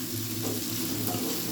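Manchurian tempering in a pan with cabbage, ginger, corn and green onion, a brief steady sizzle with faint stirring scrapes, close and without talk.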